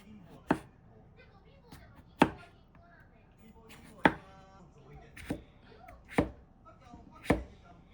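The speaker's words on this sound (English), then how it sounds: "Cut the carrot into bite-sized chunks." A knife chops a carrot into bite-sized chunks on a cutting board, giving six or seven sharp, separate thuds at an unhurried, uneven pace over low background noise.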